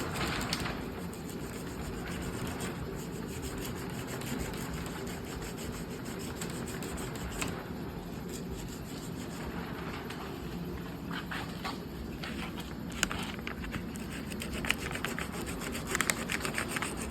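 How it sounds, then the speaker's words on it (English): Truck tailgate being hand-sanded with 80 grit sandpaper close to the wire before bedliner spraying: steady, faint scratchy rubbing strokes continuing throughout, with a few louder scuffs near the end. "This is some 80 grit right here, and sand as close to the wire as possible."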